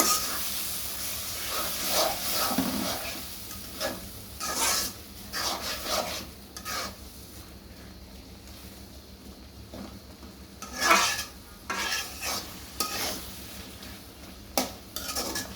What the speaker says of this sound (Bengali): এখন নাড়াচাড়া দেবো।